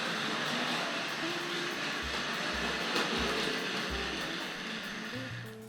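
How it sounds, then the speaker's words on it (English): A Hornby model suburban train at a collectors' association show runs along the track and eases to a stop, a soft rolling rumble with a few low rhythmic thumps over hall background noise. "So we just got the suburban train coming in from behind me at the moment."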